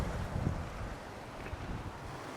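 Strong wind gusts across a seaside promenade, buffeting the microphone with a loud, rough roar and low rumble that lasts the whole short stretch, with no voices.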